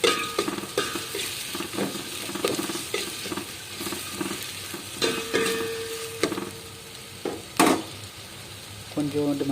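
Onion and garlic saute in a pan for a Tamil agathi keerai sothi, a sizzle under repeated clinks and scrapes of a spoon against metal, with uneven stirring bursts close by.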